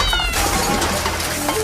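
A cat meows loudly and close by in a home kitchen where milk has been spilled, with a few drawn-out, wavering cries.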